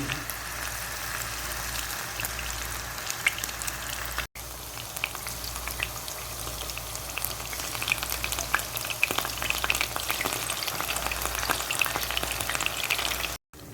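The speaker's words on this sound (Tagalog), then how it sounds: "fry lang natin siya guys ng about 5 minutes or until crispy and golden brown" Chicken pieces frying in hot oil until crispy and golden brown give off a steady, dense crackling sizzle with scattered pops, close and loud throughout, with no talking.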